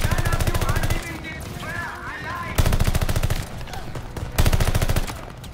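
Automatic weapon fire in Call of Duty Vanguard rips out in three loud, close bursts of rapid rhythmic shots, separated by short lulls with faint background sounds.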